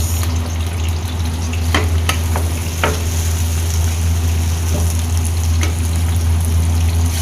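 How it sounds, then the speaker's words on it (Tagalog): Onion hitting browned garlic frying in a pan makes a loud, close, continuous sizzle with a few sharp utensil clicks and stirring noises, and no one speaks. "Ayan, medyo na-brown na ang bawang, guys. Lagay ko na yung sibuyas."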